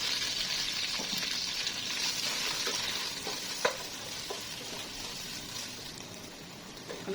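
Chopped onions frying in a little oil with garam masala for a hilsa pulao, a steady broad sizzle with light stirring scrapes throughout, close and moderately loud, no talking.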